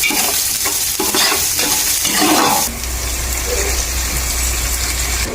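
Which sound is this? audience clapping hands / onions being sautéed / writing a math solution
onions being sautéed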